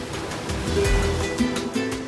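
Waves breaking against the craggy Spanish coast, a steady rushing wash of surf with a swelling surge in the middle, fairly loud and close, with no voices.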